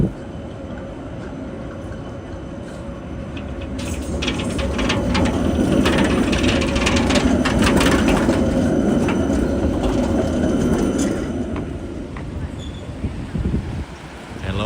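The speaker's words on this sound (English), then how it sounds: "A lot of tram traffic right now." A tram rolls past on a Helsinki street during evening Lucia Day festivities, a broad rumble that swells from about the third second, holds steady with faint rail clatter and wind noise, then fades near the end.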